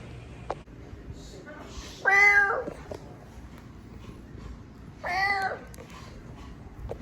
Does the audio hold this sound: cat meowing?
yes